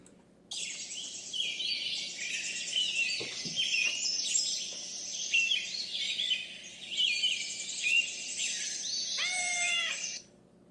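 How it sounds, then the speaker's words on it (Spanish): Small birds chirp and twitter in a dense, continuous chorus at moderate distance, with a low steady hum beneath. "Puedo oír a los pajaritos cantando"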